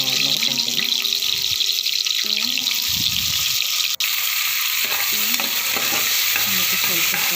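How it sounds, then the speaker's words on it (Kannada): Onion and tomato frying in a pan for pulao make a continuous close sizzle, with stirring scrapes and a sharp clack partway through. "ಇದು ಈ ರೀತಿ ಚೆನ್ನಾಗಿ ಫ್ರೈ ಆಗಬೇಕು."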